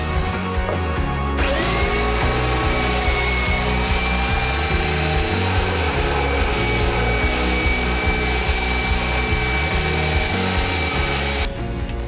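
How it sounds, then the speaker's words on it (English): A power sander works a van panel before painting, running as one steady, loud, unbroken grind for about ten seconds, then cutting off. "it needs to be sanded"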